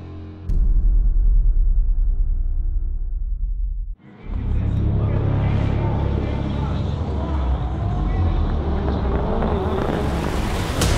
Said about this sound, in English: off the line, the blue and gray Subaru of Sverre Isachsen has launched into the lead